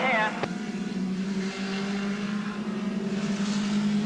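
Racing cars at the 1984 Shellsport race meeting at Pukekohe, New Zealand, produce a steady engine drone throughout, with a brief sharp burst near the start and a commentator speaking over it.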